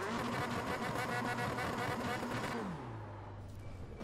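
A Formula 3 car engine in the iRacing simulator roars at full revs, then drops sharply to a lower, steadier drone as the clutch is released, heard up close without talk.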